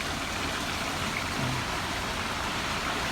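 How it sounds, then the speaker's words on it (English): A dense, steady roar of heavy rain drums on a taut canvas roof overhead, loud and unbroken throughout. "It's raining pretty hard, and on this canvas top it gets really loud in here."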